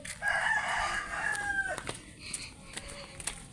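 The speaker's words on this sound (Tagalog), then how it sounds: "Ito yung manok ang pinipagbinta ko." A rooster crows once, loud and fairly close, in a long drawn-out call, followed by a few faint clucks and scattered farmyard bird sounds.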